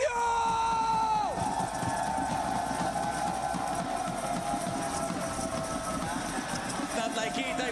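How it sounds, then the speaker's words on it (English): A live audience at a PUBG Mobile esports watch party for EWC 2026 fills the space with a steady roar of cheering and yelling, joined by a sustained tonal hum and an announcer's voice. "we do have quite a bit of crowd presence"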